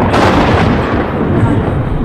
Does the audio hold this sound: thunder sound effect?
yes